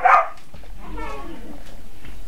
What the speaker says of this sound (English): And the dog.